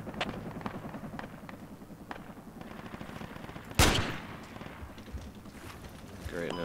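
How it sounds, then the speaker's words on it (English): Gunfire while shooting at enemies in a squad-based video game: one sharp, loud shot cracks out near the middle, with fainter rhythmic shots and game noise around it. "You guys want to shoot at these dudes with me?"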